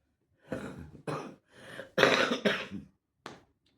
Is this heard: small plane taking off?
no